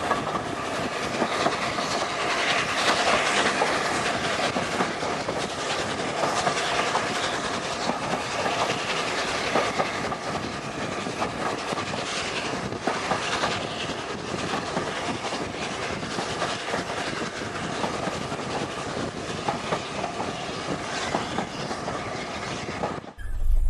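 A steam locomotive climbing a gradient, the A1 on Erdington Bank, rumbles steadily past with a dense, continuous roar and rhythmic clatter of wheels, loud and close throughout with no voices.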